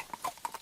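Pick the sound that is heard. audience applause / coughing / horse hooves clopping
horse hooves clopping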